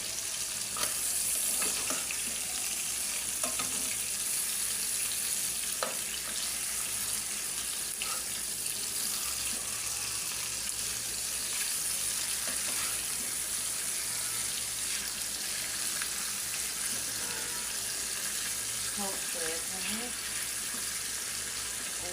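Fish fry in a hot pan with a constant, close, crackling sizzle for over twenty seconds, punctuated by occasional scrapes and clinks of stirring.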